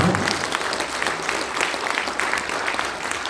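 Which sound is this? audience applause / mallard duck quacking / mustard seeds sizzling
audience applause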